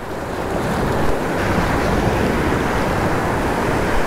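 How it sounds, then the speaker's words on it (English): Ocean waves wash and break continuously along a ship channel shoreline, a loud, steady roar mixed with wind buffeting the microphone. "No, just the waves."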